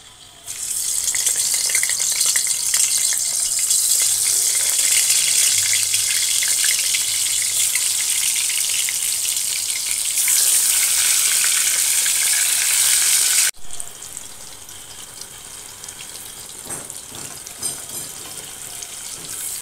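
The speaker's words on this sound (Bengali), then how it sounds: "বেগুনটা ভাজবো, তার জন্য আমি তেলটা গরম করে নিচ্ছি" Eggplant slices fry in hot oil for a Bengali begun bhaja, giving a steady, loud, hissing sizzle. After an abrupt drop the sizzle continues more quietly, with faint clinks and no speech.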